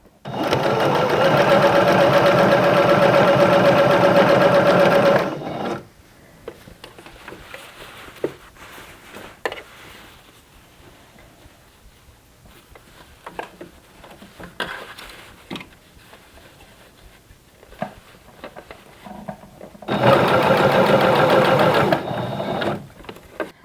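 Sewing machine stitching elastic onto leotard fabric, a loud steady whir for about five seconds, then a quieter stretch of faint handling noises, then another run of stitching.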